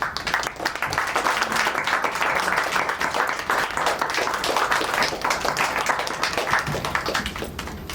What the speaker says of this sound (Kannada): ಎದ್ದು ನಿಂತ್ಕೊಂಡು ನಿಮಗೊಂದು ಚಪ್ಪಾಳೆ ಕೊಡೋಕ್ಕೆ ಇಷ್ಟಪಡ್ತೀನಿ